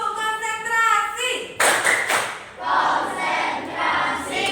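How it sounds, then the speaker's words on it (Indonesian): A group performs the clapping routine "tepuk konsentrasi", with sharp bursts of hand claps and taps breaking in between chanted words, the claps arriving in quick rhythmic clusters. "Tepuk konsentrasi."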